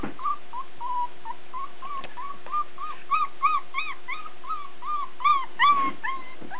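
Border collie puppies whimpering and yipping close by, a rapid series of high, bending whines that grow busier and louder toward the end, with no talk.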